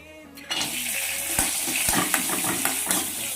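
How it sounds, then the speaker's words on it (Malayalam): Cashews and raisins fry in a teaspoon of hot ghee for fish biryani, a steady close sizzle that starts abruptly and holds, dotted with sharp clicks and scrapes of stirring in the pan. "കശുവണ്ടി മുന്തിരിങ്ങയും കൂടെ വറുക്കാനായിട്ടാണ് നെയ്യ് ഒഴിച്ചു"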